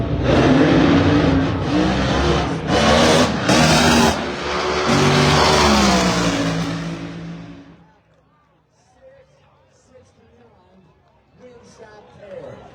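Nitro Funny Car drag racing engines at the March Meet, a loud, dense roar of accelerating motors that fills the first several seconds, then fades sharply to a quieter crowd and commentary background.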